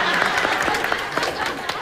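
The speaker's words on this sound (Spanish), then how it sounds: "Eso es lo que aplaudís" Audience applause at a televised Spanish comedy poetry contest, a steady patter of many hands clapping at moderate distance throughout, with scattered louder claps.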